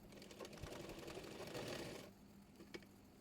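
A sewing machine stitches the folded neckband fabric of a kameez, running in a steady close whir for about two seconds before stopping, with only a couple of faint clicks after.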